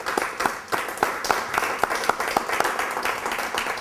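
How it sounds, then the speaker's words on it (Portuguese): A church congregation applauds together at a service, a steady crowd of hand claps with sharp individual slaps standing out, continuous and moderately loud throughout with no talk. "Quantos querem dar um aplauso ao Senhor pela Igreja Betesda?"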